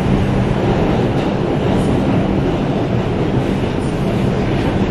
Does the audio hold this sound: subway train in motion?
yes